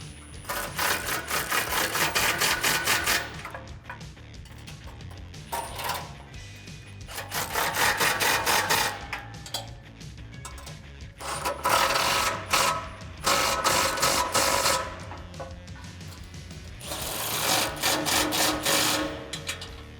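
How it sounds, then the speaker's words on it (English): Repeated bursts of rapid ratcheting as an 18mm wrench and socket tighten bolts on a DV8 off-road front bumper for a 2018-2019 Ford F150, loud clicking runs separated by short pauses. "tighten it down with an 18mm wrench and socket"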